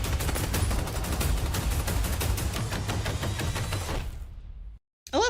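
Dense, sustained bursts of gunfire from a trailer for the movie The Batman, loud and relentless for about four seconds before cutting abruptly to near silence and a brief final hit.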